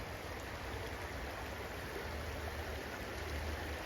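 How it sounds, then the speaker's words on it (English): The Salmon River in Idaho rushes fast, a steady broadband wash of flowing water heard close and continuous with no voices. "This is the Salmon River, which of course the city is named for."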